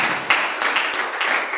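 A church congregation claps together in a dense, steady burst of applause that holds at an even level for a couple of seconds.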